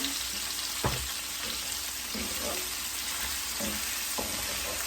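Meat for stewed fermented cabbage sizzles steadily in a hot pan, a constant crackling hiss with occasional scraping stirs, close and fairly loud, no talking.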